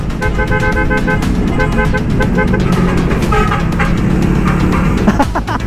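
A large truck honks repeatedly while driving alongside on a rough road in Zambales, Philippines, loud horn blasts over constant engine and road noise heard from close by a motorcycle.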